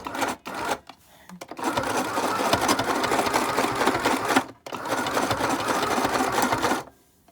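Small cheap home sewing machine stitching a fabric face mask, a steady close mechanical whirring run of stitches broken by two short pauses, with faint rustling of cloth at the start.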